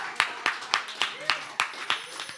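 Sharp, isolated claps land at a fairly regular beat, about eight in a row, close and distinct, from an audience at a spiritual gathering, with faint voices between them.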